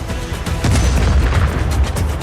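Heavy gunfire in Just Cause 4 bursts rapidly amid deep booming blasts near an armored train, loud and close, forming a dense continuous barrage.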